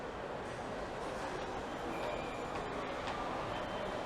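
A Seoul Subway Line 2 train pulls out of the station, giving a steady, loud rumble of wheels and motors with a hissing high-frequency wash that holds throughout, no voices.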